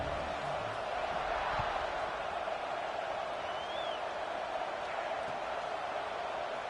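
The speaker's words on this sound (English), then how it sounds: "this crowd is buzzing after that last score" A packed stadium crowd in the video game College Football 26 gives off a steady, dense murmur of cheering that holds at an even level throughout, with no clear voices standing out.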